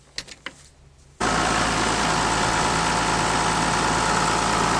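A farm machine engine left running at idle ahead of an oil change, starting abruptly after a second of quiet and holding a loud, steady diesel rumble with no break through the rest of the clip.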